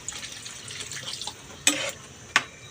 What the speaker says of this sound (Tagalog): lagyan natin konti tubig idol